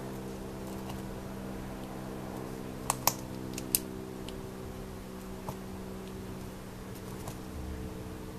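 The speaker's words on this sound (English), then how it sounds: "grab a pen, and we are just going to make little rivets" A pen presses rivet dots into foil laid over paper, giving a few faint, sharp ticks and taps spaced unevenly over steady background hum.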